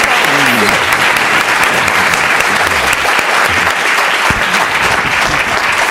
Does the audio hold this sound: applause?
yes